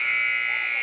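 A loud, sustained electronic buzzer sounds in a gym at a high school volleyball game, one steady, harsh tone held for nearly a second without breaks.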